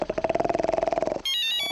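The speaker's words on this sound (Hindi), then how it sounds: "बच्चन पांडे जी का फोन आ रहा है" A mobile phone rings with a rapid pulsing electronic tone, loud and close, that cuts off after about a second into a brief steady chime, with no talk over it.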